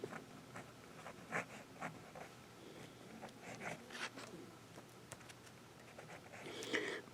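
A Lamy Dialogue 3 fountain pen with a 14K fine nib scratches quietly across paper in faint, irregular strokes and taps, close up in a quiet room.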